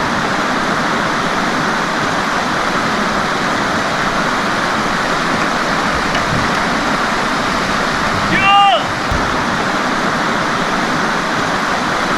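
Creek water at Granite Creek, British Columbia rushes in a steady, loud, unbroken wash, with a brief high chirp briefly rising above the flow near the end.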